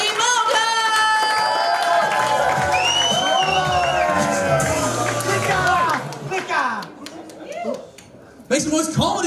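A comedy club audience at a live standup comedy competition cheers, whoops and claps loudly, with voices shouting over the crowd. The noise fades around the middle, then flares up again briefly near the end.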